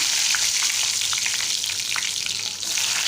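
Curry leaves and garlic cloves dropped into hot oil with mustard seeds for a tomato dish, making a loud, dense, crackling sizzle that holds steady throughout, dotted with small pops and spits, with no voices.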